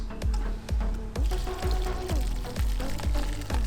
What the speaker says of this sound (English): now I'm just going to turn on the pump. I'm going to wash down the sides here